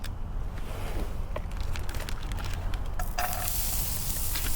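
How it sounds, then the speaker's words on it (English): Onions and green peppers frying on a small camp stove outdoors, a steady close sizzle and hiss that runs the whole time, with a few faint clicks from stirring. "I found cooking up the onions and the green peppers best."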